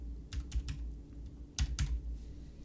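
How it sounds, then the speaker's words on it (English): Keys on a computer keyboard clatter in two short bursts of several quick taps each, close and fairly quiet, with a pause between and no talking. "So I'm going to type in something like this."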